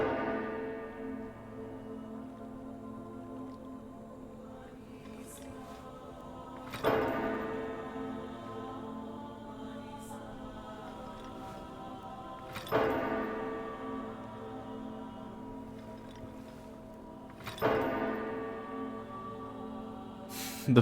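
A large bell in the video game Myst IV: Revelations tolls four times at slow, even intervals, each deep strike swelling and then ringing out in a long shimmering hum, with no voices heard.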